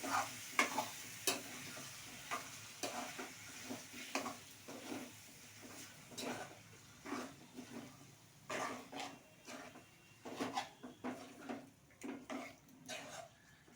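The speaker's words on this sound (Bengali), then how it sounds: "ছেড়ে দিয়ে আবারও ভালো করে নাড়াবো, ভালো করে নাড়াতে হবে।" Frying food stirred in a pan, a spoon or spatula scraping in irregular repeated strokes over a soft sizzle, close and fairly quiet.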